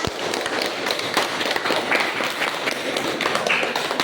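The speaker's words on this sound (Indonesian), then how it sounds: "kasih aplaus untuk kelompok 4" A classroom group gives applause for the fourth group of students, a steady patter of many hands clapping for several seconds, moderately loud.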